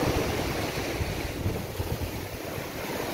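Sea waves roll onto the coast in Iran, a steady broadband surf roar with low rumbling swells and some wind noise, continuous and fairly loud with no talk.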